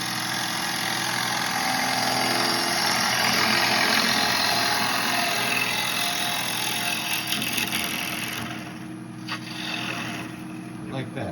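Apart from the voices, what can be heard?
bowl gouge making a peeling cut on a wood lathe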